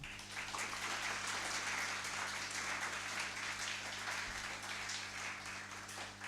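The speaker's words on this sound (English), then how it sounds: "may I request you please give a round of applause in his honor" Lecture audience applauds the speaker at an event on atonement in politics, giving a steady, even wash of clapping heard at some distance that holds throughout with faint background hum.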